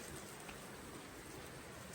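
Steady rain falling outdoors at an off-grid homestead in northern Arizona, a soft continuous hiss of drops on the ground, faint and even throughout with no voices.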